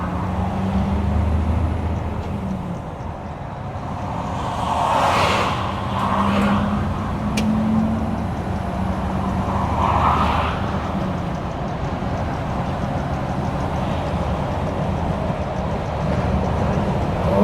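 A Mercedes Actros truck drives along as heard from inside the cab: a continuous loud road and engine rumble with tire roar that swells and eases, plus faint rattles, and no talking.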